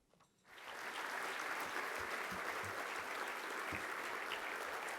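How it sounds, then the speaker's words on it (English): After a brief quiet moment, a gala dinner audience at the Myocarditis Foundation event breaks into a big, sustained round of applause honoring Matt Corso, staying full and even to the end. "One more big round of applause for Matt Corso."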